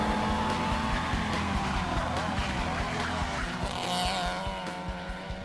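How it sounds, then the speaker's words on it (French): A Renault 5 Alpine braking hard into a chicane, heard from inside as a loud, steady engine drone that shifts pitch as the car slows, with a brief tyre squeal near the end. "On va arriver à la chicane, je vais freiner un peu fort là."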